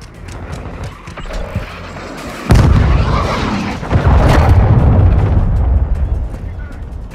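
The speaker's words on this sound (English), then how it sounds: "Friendly cruise missile inbound." A friendly cruise missile strike in Call of Duty: Modern Warfare II lands as heavy, booming explosions, a sudden loud blast followed by a second rumbling impact amid battlefield noise.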